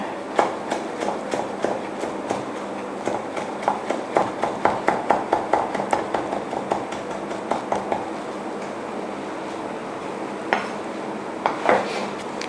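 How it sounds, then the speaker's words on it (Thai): A knife finely chops parsley rapidly on a cutting board, a steady run of close, crisp taps that slows and thins to a few scattered strikes. "เราก็เอาพาสเล่มาสับค่ะ อันนี้ก็สับให้ละเอียดเหมือนกัน"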